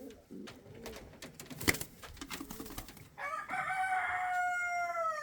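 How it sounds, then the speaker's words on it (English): Indian fantail pigeons and young chicks in a breeding loft: soft cooing and bird calls, then a sustained, harmonic crowing-like cry over the last two seconds, fairly close with faint background noise. "These are young chicks."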